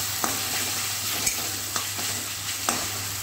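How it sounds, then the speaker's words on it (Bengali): Green peas are stirred into cabbage frying with a hilsa fish head and oil in a kadai. Four or five distinct spatula scrapes cut through a constant soft sizzle, spaced about a second apart. "দিয়ে আর একবার সুন্দরভাবে নাড়াচাড়া করে দেবো।"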